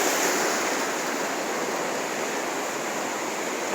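A brook rushes by at South Branch Falls in Baxter State Park, a loud, steady, close roar of moving water that holds constant throughout with no talking.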